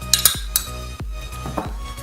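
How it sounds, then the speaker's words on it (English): Homemade deodorant with shea butter, coconut oil and baking soda is stirred in a bowl, with a run of close, sharp utensil clinks and scrapes against the container and a low steady hum behind them. "I'm gonna keep mixing"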